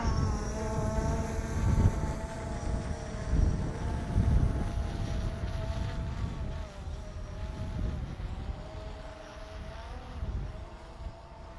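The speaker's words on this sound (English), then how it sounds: "Yeah, wind's picking up." Wind buffeting the microphone during a drone flight, mixed with a steady whining hum from the drone's propellers, a rumbling gusty roar that swells and eases over several seconds.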